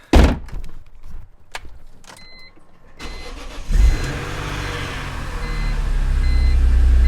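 A BMW E46 M3 CSL engine cranks and catches after a few mechanical clunks, settling into a steady, loud, close idle that gradually swells in volume.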